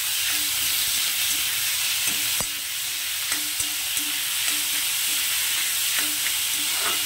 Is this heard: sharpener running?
no